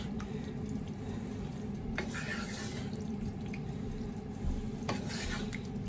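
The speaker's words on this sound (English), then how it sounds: "we're going to give that a stir, amalgamate it all" A sauce being stirred in a pot, with soft scraping and liquid sloshing sounds and a couple of faint clinks, heard close and steady over a low kitchen hum.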